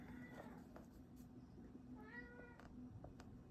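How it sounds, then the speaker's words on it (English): A cat meows indoors, a few drawn-out, fairly faint calls rising over a steady low room hum. "hi, cat, you cannot be in the video."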